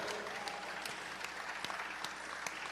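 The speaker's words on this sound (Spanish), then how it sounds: "Dale otro aplauso fuerte al Señor." A church congregation claps for the Lord in a steady, moderately distant round of applause, with sharper individual claps poking through the continuous patter.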